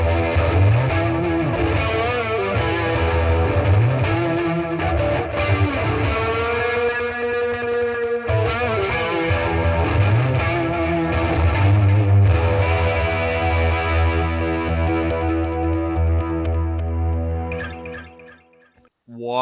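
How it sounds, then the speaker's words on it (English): Heavily processed electric guitar chords through a Boss Katana 50 amp with a swirling flanger sweep, echoing delay and wide reverb, loud and continuous before fading out at the end. "So that was like a flangey effect with the delay and the reverb."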